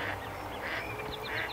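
Faint quacking calls from a few ducks sound in the distance in spring in Vancouver, British Columbia, coming in short bursts over quiet background noise.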